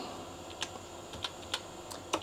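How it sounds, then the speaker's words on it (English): Keys clack on the keyboard of a Compaq luggable PC, a last-generation Network General Sniffer computer, in a handful of sparse, quiet keystrokes with short pauses between them. "Keyboard is working"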